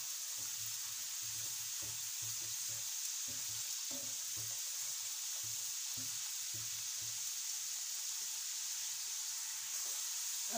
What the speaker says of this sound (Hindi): अब हम इन्हें इस तरह से करके उलट पलट कर लेंगे।